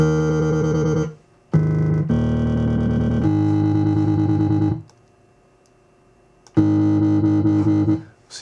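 Harsh, distorted dubstep synth layering iron-style and sawtooth oscillators with an added octave, playing sustained buzzy notes in several chunks separated by short silences, loud and alone without talking.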